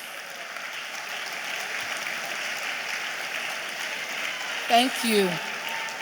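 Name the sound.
audience clapping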